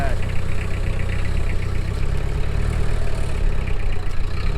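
A Yamaha Blaster ATV engine drones steadily and loudly while attempting a creek crossing, a continuous mid-pitched revving roar with no clear speech over it.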